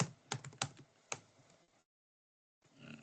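Quiet keystrokes on a computer keyboard, a short uneven cluster of clicks entering a figure, then a pause of near silence before faint room sound returns.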